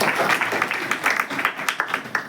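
A church congregation at a night prayer meeting claps together in steady rhythmic beats, a dense, close wash of hands that grows more distinct toward the end.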